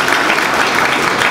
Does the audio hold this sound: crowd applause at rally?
yes